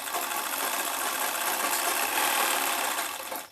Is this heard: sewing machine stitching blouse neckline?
yes